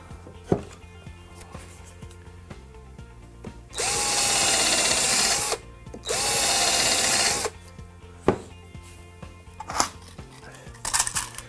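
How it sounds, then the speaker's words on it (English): A power drill drives screws into a pallet-wood table in two loud, sustained whirring bursts, each lasting over a second, with scattered knocks and handling clicks between them. "2 screws driven all the way down so it holds it nice and tight"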